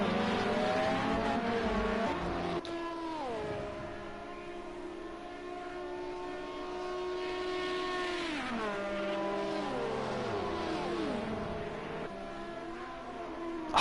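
Race cars in the Project CARS 2 racing game at Le Mans battle on track, a Toyota passing an Audi, with sustained engine roars whose pitch rises and falls in long sweeps as cars shift and pass, loud and continuous without talk.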